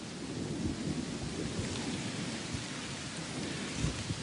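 A thunderstorm passes over pine woods in heavy rain. The steady, dense hiss of the pouring downpour fills the scene, with low rumbling thunder underneath and no voices.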